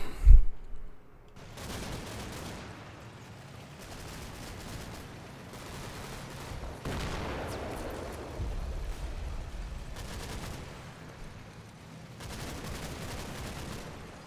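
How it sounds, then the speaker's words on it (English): Mortar rounds firing in the Combat Mission: Battle for Normandy war game, heard as a sharp opening thump followed by rolling, distant booms and rumbling bursts that rise and fall across the stretch without talk. "Some mortar rounds going out."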